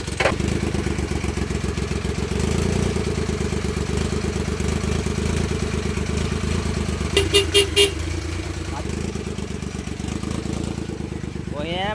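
A repaired motorcycle engine idles steadily and loudly close by, with a brief burst of a few higher-pitched beeps partway through.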